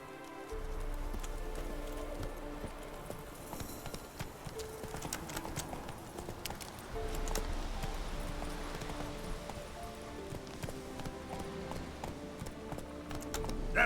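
Hoofbeats of the horse Roach trotting in The Witcher 3, a steady clip-clop rhythm with rain-like patter and game music underneath, mostly without talk.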